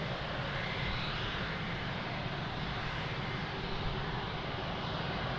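An airplane engine at Lisbon Airport gives a faint, distant, steady broadband roar that holds unchanged throughout.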